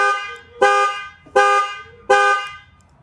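A 2013 Ford F150's horn honking in panic-alarm mode, set off from the key remote: three loud, evenly spaced blasts heard close by, each about half a second long, with nothing else audible.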